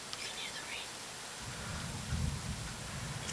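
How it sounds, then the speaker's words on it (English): Rain falling outdoors during a thunderstorm with nearby lightning, a soft, steady hiss with a low rumble swelling midway, faint and continuous with a brief voice early on. "You can hear the rain."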